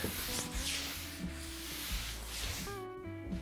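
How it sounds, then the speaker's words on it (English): A solid jarrah wood bench being sanded with coarse grit, producing a close, continuous abrasive rubbing with strokes that rise and fall in rhythm and no speech. "better to sand it coarse to start, let the oil in, and then you can hit it with a fine sand afterwards"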